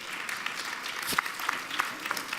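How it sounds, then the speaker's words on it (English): Light audience applause at a development conference, a modest scatter of claps with a few sharper individual hands standing out, fairly soft and brief. "you may applaud, of course"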